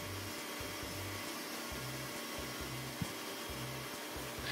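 Several stand mixers whipping egg whites at full power together, a steady loud whirring drone with a pulsing low hum throughout and one brief knock partway through.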